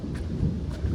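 Thunder rumbles low and continuous over a windy evening as rain approaches, a deep steady roll filling the whole brief moment.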